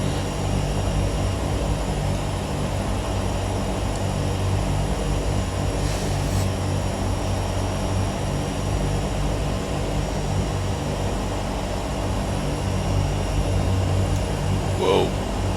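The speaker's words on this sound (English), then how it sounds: "My awesome taxiing abilities will keep the Beechcraft Duke" A Beechcraft Duke twin propeller plane taxiing in a flight simulator game, its engines holding a steady loud drone throughout with only faint momentary changes.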